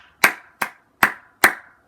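Four sharp hand claps ring out close and loud, evenly spaced, each followed by a short decay into silence, with no talk.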